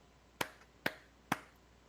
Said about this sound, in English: I'm going to clap, and you're going to read the question